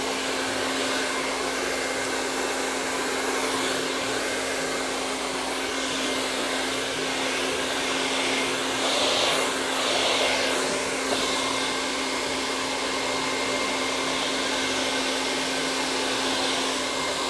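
A hair dryer blows continuously at close range while drying curly hair, a steady loud whooshing hum with a constant motor whine and slight airflow shifts as it moves.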